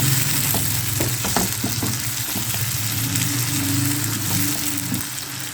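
Ginger garlic paste fries in a pan while goat brain is cooked desi style, giving a dense continuous sizzle with a few quick stirring scrapes near the start, heard up close with no voices.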